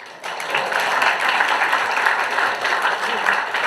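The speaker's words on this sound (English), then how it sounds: "we should all clap" An audience at a memorial lecture claps together in a full, even burst of applause that starts abruptly and holds strong to the end, with no voices over it.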